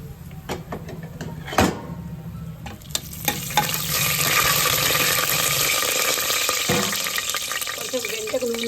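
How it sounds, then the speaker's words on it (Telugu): Bay leaf, peppercorns and a piece of cinnamon frying in oil in a pressure cooker for a mutton brinjal curry, a steady close sizzle with clinks and stirring scrapes, growing fuller after a few seconds. "కుక్కర్ పెట్టుకొని కుక్కర్లు రెండు పావులు ఆయిల్ వేసుకున్నా నేను అందులో చిన్న బగారా ఆకేస్తున్నా కొన్ని ఒక పది పదిహేను మిరియాలు ఒక చెక్క కొద్దిగంత పువ్వు వేస్తున్నా"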